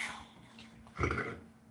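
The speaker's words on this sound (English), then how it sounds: "Why are you growling at her for? You're such a dumb dog." A dog growls low and faint, with a brief rougher rumble in the middle among quiet breathing-like noise and no speech.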